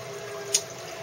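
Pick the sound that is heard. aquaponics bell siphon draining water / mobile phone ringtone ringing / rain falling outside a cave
aquaponics bell siphon draining water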